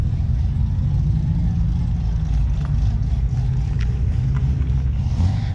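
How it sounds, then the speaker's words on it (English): Corvette engine idling with a choppy, uneven lope, a steady low rumble running throughout at moderate loudness, heard from nearby at a car event with faint background noise. "I love the chop on that Corvette. You guys can hear in the background, it's just chop, chop, chop, chop."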